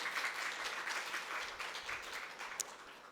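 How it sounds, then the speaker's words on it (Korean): A church congregation claps to welcome a visiting men's mission group during a service, giving soft, steady applause that stays fairly distant and even, with one sharp clap near the end. "우리 감사히 한번 박수를 한번 하겠습니다."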